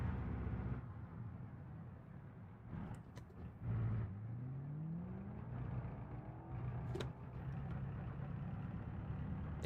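A car engine in a racing video game revs and idles, a low rumbling tone that drops, then climbs in pitch as it accelerates, with brief gear-shift breaks along the way.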